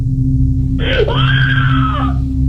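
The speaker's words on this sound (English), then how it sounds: "contend the scream was merely a sound effect" A woman screams in a recorded phone call, one long, loud wailing cry lasting over a second, held over a steady low hum and line noise.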